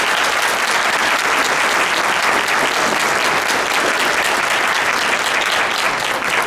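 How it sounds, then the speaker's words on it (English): Sustained audience applause at a congressional event honoring a U.S. Representative for Illinois's 11th District, loud, dense and steady throughout with no voices over it. "A huge round of applause."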